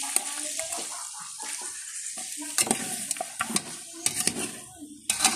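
Garlic and onion sauté in a pan over a stove, a hissing sizzle broken by quick scrapes and clacks of a spatula stirring, close and moderately loud, no speech.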